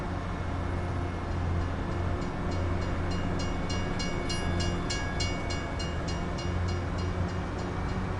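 A train rolls past steadily in Farming Simulator 25, with a continuous heavy rumble and a regular clacking of wheels over rail joints. A faint horn tone sounds briefly midway.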